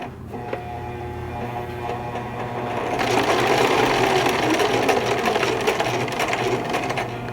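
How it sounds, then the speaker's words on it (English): A sewing machine stitches fabric in a steady, fast mechanical whir with a low motor hum, running continuously and getting louder and busier midway, with no talk over it. "lift up the presser foot, turn it so it's straight again, and then continue sewing again."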